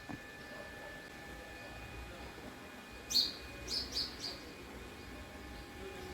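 A few short bird chirps ring out in quick succession over a quiet, faint background hiss as birds feed on paddy grain.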